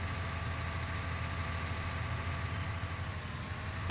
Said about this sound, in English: This tractor's phenomenal.